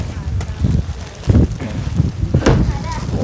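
Strong wind rushes and buffets a microphone outdoors beside a pickup truck loaded with household belongings, roaring in uneven gusts with faint rustling underneath.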